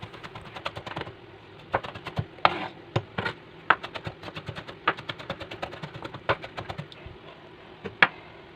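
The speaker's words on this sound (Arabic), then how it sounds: "غادي نقطع واحد 4 ديال الحبات المطيشه بهذه الطريقه صغيره" A knife taps steadily on a cutting board while four peppers are cut into small pieces, with close, crisp, irregularly spaced chops and no talking.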